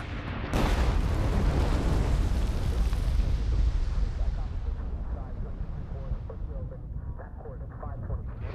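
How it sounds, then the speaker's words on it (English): Heavy artillery fire in Pacific War combat footage opens with a sudden loud blast, then a dense, rumbling barrage of explosions that slowly thins and fades over several seconds. "thousands of well-armed Japanese troops, concealed in caves and bunkers, are unleashing artillery concentrations unlike anything yet experienced in the Pacific War"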